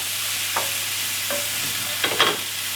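Bean sprouts and spinach stir-fry in a hot pan with a steady sizzle, punctuated by a few short scraping strokes of a utensil, two close together toward the end.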